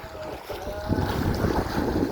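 Waves crash against rocks at a pier, a broad rushing surge that swells louder partway through amid gusty wind noise on the microphone, with no talk.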